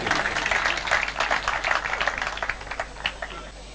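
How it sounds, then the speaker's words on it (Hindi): An audience at a 2016 Hindi poetry recital claps, a dense, lively burst of applause that continues throughout and tapers somewhat toward the end, without speech. "न केवल काव्य प्रतिभा के लिए बल्कि जितनी प्रतिभाएं छुपी हुई हैं उन सब के लिए तालियों का एक महोत्सव होना चाहिए।"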